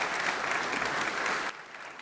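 An audience at an author talk on Theodore Roosevelt applauds loudly with dense clapping that stops abruptly, leaving quiet room tone.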